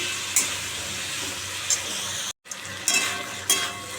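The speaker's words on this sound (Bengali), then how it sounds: "এটা এখন কষাবো ভালো করে" Bitter gourd and pumpkin are sautéed in a pan. A steady, close sizzle runs throughout, with a few sharper scraping stirs and a brief gap partway through.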